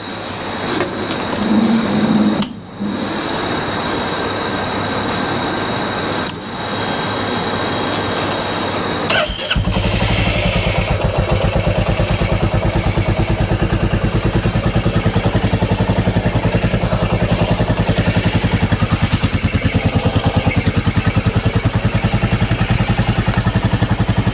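Royal Enfield Classic 350 single-cylinder engine with a decat exhaust pipe, heard close and loud. Background noise gives way to a steady, thumping idle that continues evenly to the end.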